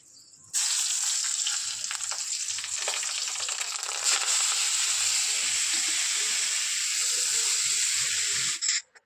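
Radish greens with salt and turmeric fry in a pan with a steady, loud sizzle that runs almost unbroken, punctuated by light stirring scrapes, then cuts off abruptly near the end.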